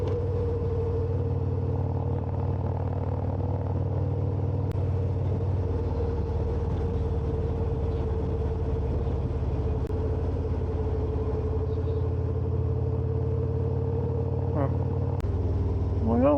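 Steady engine drone and wind rumble from a motorcycle cruising along a rural highway, continuous and even throughout with no breaks.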